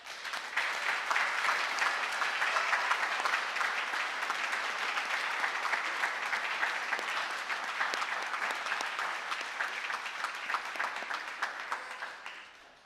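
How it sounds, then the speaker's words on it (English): University graduation ceremony audience applauding in a large venue, a broad, steady wash of many hands clapping that lasts over ten seconds before tapering off. "with the biggest round of applause."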